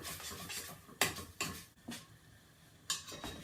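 Creamy chicken pasta stirred in a pan, with quiet scraping and a few sharp clinks of a utensil against the pan, soft and close.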